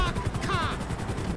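Randomized gunfire in GTA 5, a rapid burst of automatic shots from a weapon that should be a machine gun, loud and continuous with a brief whining streak midway and game noise throughout.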